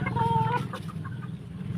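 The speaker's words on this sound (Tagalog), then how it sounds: "Napakaganda ng mga manok na ito dito guys." Roosters and hens of fighting-cock stock cluck close by in a short, busy run of clucks.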